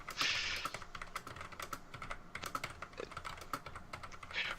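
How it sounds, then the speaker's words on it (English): Rapid clattering keystrokes on a computer keyboard picked up through an open microphone during an online tabletop game session, close and continuous with irregular bursts and a few louder key hits. "Casey, mute your mic, please. Typing."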